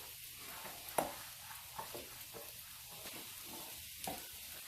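Eggs and garden vegetables fry in a pan with a steady, soft sizzle, broken by a few clinks and scrapes of stirring. The sound is close and moderately quiet, and no one speaks.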